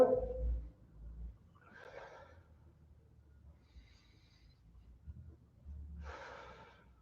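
Heavy breathing from a person doing a Y-shape shoulder-blade pinch exercise in a youth athletic training session: two breathy, forceful exhales spaced a few seconds apart, close and fairly quiet over a low background hum.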